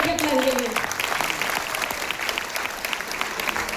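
An auditorium audience at a leader recognition ceremony claps loudly and steadily throughout, with a dense wash of applause and voices mixed in.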